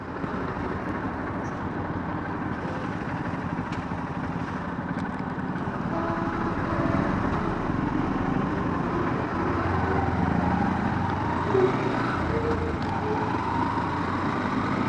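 Steady road traffic rolling across the Padma Bridge, cars, trucks and motorcycles making a continuous broad roar and rumble that swells slightly midway, with no voices over it.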